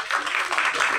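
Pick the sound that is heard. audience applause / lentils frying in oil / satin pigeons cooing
audience applause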